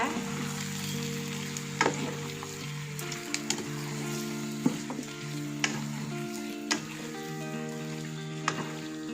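Chicken pieces stir-fry in a pan for soto Medan, with a steady soft sizzle and repeated sharp scrapes and taps of a spatula against the pan, heard close under quiet background music.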